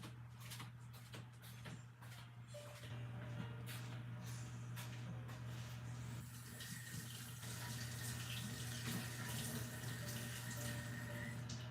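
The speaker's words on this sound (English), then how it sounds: "I think I have to wash my hands really quick" Tap water running in a pottery studio sink as someone washes their hands, a steady close rush with scattered knocks and clatter near the start, over a constant low hum.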